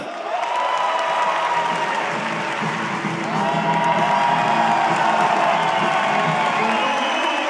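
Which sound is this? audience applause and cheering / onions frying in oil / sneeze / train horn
audience applause and cheering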